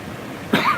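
A single short cough near the end, close and fairly loud, after a moment of quiet background, during an outdoor live stream at a receding river dam.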